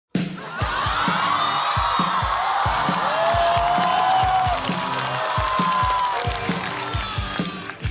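A stand-up comedy show audience welcomes a comedian onstage with loud, sustained applause, whoops and cheering, a full roar of a large crowd that starts abruptly and holds steady, with shouts rising above the clapping.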